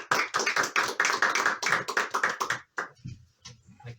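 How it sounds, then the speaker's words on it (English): An audience at a talk on the Catholic virtues applauds to welcome the speaker: a dense burst of many hands clapping for nearly three seconds, then thinning out into a few scattered claps with quieter sounds around them. "So I ask for a warm and welcome round of applause"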